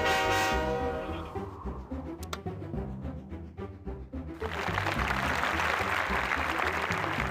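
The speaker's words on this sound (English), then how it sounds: "Blow the locomotive's whistle to scare the deer off the track." A deep, sustained locomotive whistle in the video game 3-D Ultra Lionel Train Town blares with layered tones, then cuts off; later a broad, hissing wash of noise swells and continues steadily.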